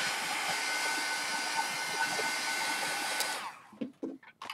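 A handheld heat tool blows steadily and loudly up close while drying a mixed media book made from a recycled almond milk carton, then cuts off near the end, leaving a few faint handling knocks.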